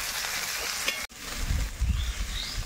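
Garlic paste, ginger paste, cumin and dried chilli hitting onions frying in a pan give a soft sizzle, briefly stirred, then a louder bubbling fry, close and alone.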